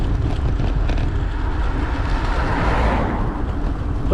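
A car passes close by on a narrow country lane in Warwickshire, a steady broadband road rumble that swells and fades over a few seconds with no talk.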